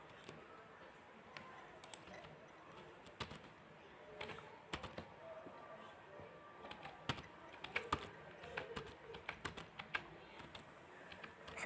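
Typing data into SPSS on a computer keyboard: quiet, irregular key clicks and taps in uneven bursts, close and faint, with no one speaking.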